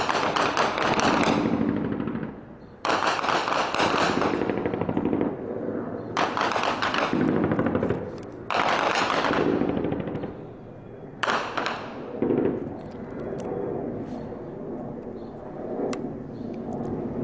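Bursts of rapid gunfire from helicopters over the town of Al-Hirak, Daraa, come in several long, loud volleys separated by short pauses, then fade to quieter scattered shots and rumble.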